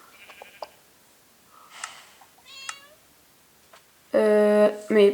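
A farm animal cow in the video game Parasites Outbreak gives short scattered calls, then a louder, sustained bleating moo near the end, amid faint game sounds.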